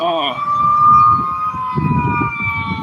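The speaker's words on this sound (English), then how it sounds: "Here's the damn ambulance, whatever the hell went on here." An ambulance siren wails nearby, with a sustained, slowly sliding tone ringing loud over low road rumble for about three seconds.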